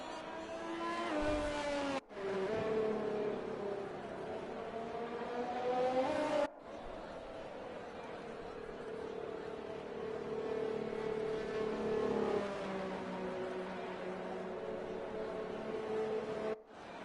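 Race car engines rumble and whine on the starting grid of a racing video game, several cars revving with rising and falling pitch, steady and fairly loud, with brief cuts between shots.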